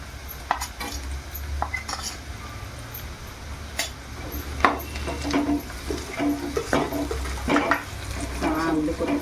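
Spices with asafoetida and bay leaf stirred in a pan for a spicy brinjal-potato curry, giving a steady low sizzle broken by frequent clinks and scrapes of a utensil against the pan.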